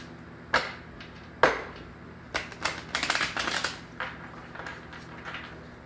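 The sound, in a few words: shuffling tarot cards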